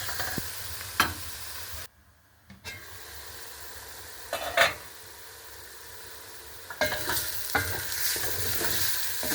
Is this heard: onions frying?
yes